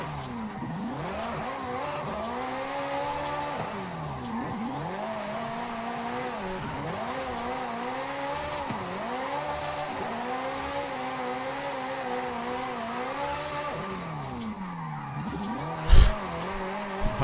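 A Ferrari sports car's engine revs and pulls steadily while being driven in Forza Horizon 5, its pitch rising and dipping through repeated gear changes, with a sharp thump near the end.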